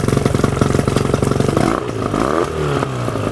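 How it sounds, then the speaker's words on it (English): A 1999 Johnson 25 hp two-stroke short-shaft tiller outboard runs loud and close with a rapid, clattering pulse, then shifts into a smoother, wavering drone partway through. "This motor does start right up."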